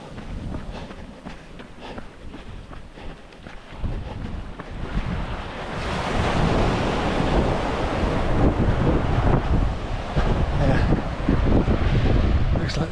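Sea waves wash along the coast near Tenby, Wales, heard during a jog by the shore, a steady surf roar building louder midway with strong wind buffeting the microphone throughout.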